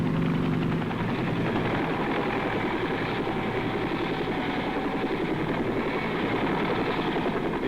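Steady, loud mechanical drone with a thudding low rotor rumble of American military helicopters of the Vietnam War era flying close overhead, continuous throughout with no voices.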